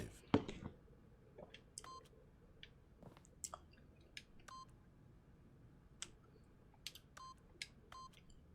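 A keypad code is punched in, in the video game The Stanley Parable: a series of short, faint electronic tone beeps spaced irregularly over several seconds, with soft clicks and background noise.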